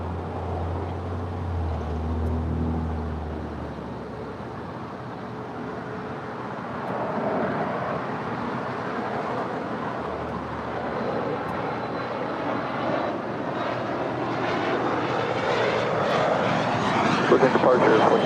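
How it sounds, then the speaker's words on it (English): An Air Canada Boeing 737 MAX 8 arriving at LAX from Montreal makes a long jet engine roar that grows steadily louder as it approaches, with voices talking over it. "That is Air Canada, flight 775 coming in from Montreal."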